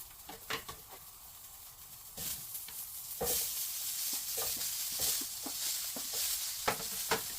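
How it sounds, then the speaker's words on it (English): Onion sizzles steadily in a hot frying pan while being stirred for chicken adobo. A constant hiss of frying sits beneath intermittent scrapes and knocks of the utensil against the pan. "after adding the onion, we stir it until it's cooked"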